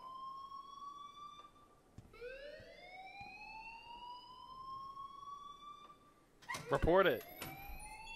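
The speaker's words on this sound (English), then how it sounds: "please turn off that alarm" An electronic alarm in the Life is Strange video game wails with rising, siren-like sweeps, steady and fairly loud, while a voice speaks briefly near the end.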